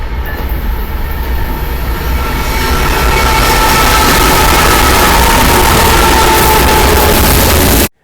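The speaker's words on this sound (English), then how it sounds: "I'm using it to film a train today." A train passes close by in a steady, loud rush of rolling wheels and rail noise that lasts throughout, recorded through a Chromebook webcam microphone, then cuts off abruptly at the end.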